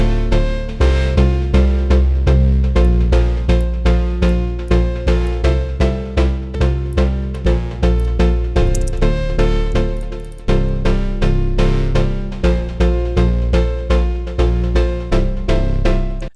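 Euphoric house music with a synth chord layer and a low-cut bass layer plays together in a loud, steady, pumping rhythm, with repeated sidechained swells and no voices.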